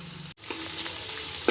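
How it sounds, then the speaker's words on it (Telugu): Chopped onions sauté in oil until browning for chicken pulao, a steady close sizzle broken by one brief dropout, with light stirring clinks and a sharper clatter near the end. "ఇది కొంచెం బ్రౌన్ కలర్ వచ్చే వరకు మగ్గించుకోవాలండి."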